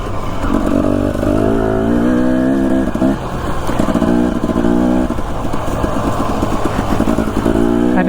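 A motorcycle ridden through Idaho rumbles loudly and close up, its engine note repeatedly rising and dropping as the rider works the throttle, with wind noise in the background and no speech.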